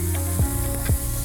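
Smash burger patty frying on a hot griddle, a steady broadband sizzle with two brief scraping swells as it is worked.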